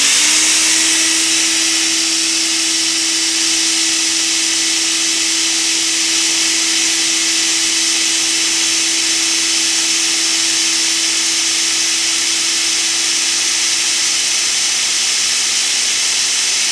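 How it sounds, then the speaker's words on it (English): A vacuum cleaner runs loud and steady throughout, with a constant whine over a broad roaring hiss and no pauses. "I'll turn on the vacuum cleaner and start my stopwatch"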